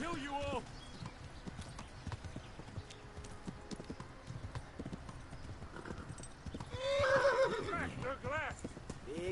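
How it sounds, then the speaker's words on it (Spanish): Horse in the medieval video game Kingdom Come: Deliverance, with steady clip-clop hoofbeats running throughout and a loud neigh near the end, while someone talks over the hooves. "¿No puedes galopar caballo un poquito más?"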